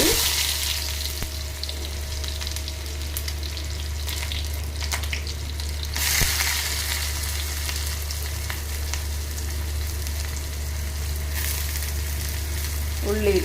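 Chopped onion fries in hot oil with toasted cumin, sizzling loudly and continuously with a brief swell of crackling as it is stirred, over a steady low hum, with no voices.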